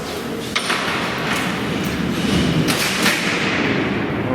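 Alcatraz prison cell doors being locked by pulling a lever, producing a rumbling metallic slide with a few heavy thuds over steady background noise.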